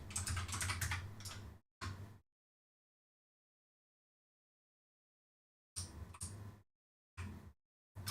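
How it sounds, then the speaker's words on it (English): Typing on a computer keyboard: soft clustered keystrokes in short bursts, a longer run at the start, then a few brief flurries separated by complete silence. "you're typing the header in for it"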